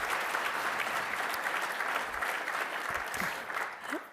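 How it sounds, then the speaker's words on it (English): An audience at a mayor's address claps in steady, sustained applause that fades slightly toward the end. "Give them all a big round of applause"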